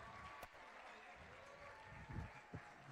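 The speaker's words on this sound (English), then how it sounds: "Let's have another round of applause for the whole 4th grade orchestra," Audience applause for a 4th grade school orchestra at a day school demonstration concert, a brief burst of clapping with a few louder claps near the end, fairly faint and diffuse in a large room.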